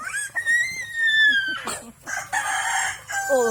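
A rooster crows loudly and up close in rural Bicol, the Philippines, followed by chickens clucking nearby.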